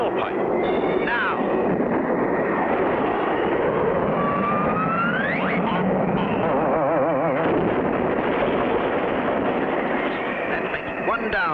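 A cartoon airplane engine roars at takeoff in a 1959 animated air race, loud and continuous with rising whines and rattling bursts, under music and sound effects.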